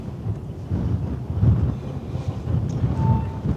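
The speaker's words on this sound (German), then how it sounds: "Ich finde nur, der Wind darf zum Wochenende etwas nachlassen" Wind buffeting across the open deck of an AIDA cruise ship at sail away, a low rumbling roar that gusts and swells without pause, no voices.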